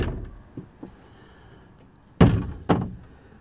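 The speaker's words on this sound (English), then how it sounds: "This door then, if you want, that door slides across." A sliding door in a 2008 Laika Siena motorhome slides across and closes with two sharp, close thuds after a few faint taps and rattles.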